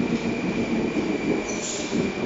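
A Rusich metro train with air conditioning rumbles steadily nearby on Moscow's Butovskaya line, with a high whine and faint squeal of wheels on the rails.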